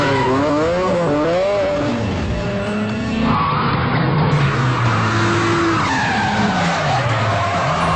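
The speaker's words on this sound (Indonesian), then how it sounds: "akhirnya Zack berhasil membuat mobil Lucky tergelincir." Racing car tires skid and squeal loudly on a track in a film, with long wavering screeches over a steady engine roar and no speech.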